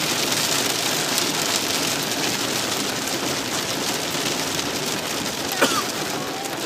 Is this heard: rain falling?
yes